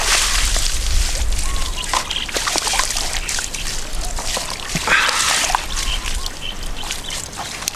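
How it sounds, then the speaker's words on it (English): A shirt is worked by hand and soaked with mud for dyeing: wet squelching and dripping splashes with sharp slaps, steady and close throughout, with outdoor bird calls in the background. "to get the shirt dyed properly, you really need to saturate it with mud and work it into the shirt"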